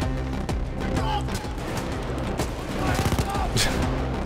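Sentry guns in Payday 2 firing continuous automatic bursts like a light machine gun, a dense, loud rattle of gunfire that runs throughout, with voices talking over it.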